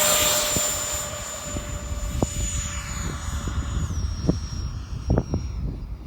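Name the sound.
E-flite F4 Phantom II RC jet taking off from grass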